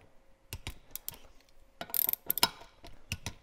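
A torque wrench ratchets on beadlock rim bolts of a 2023 Polaris Ranger 1000XP, giving short bursts of close, crisp clicking separated by brief pauses, with no talk.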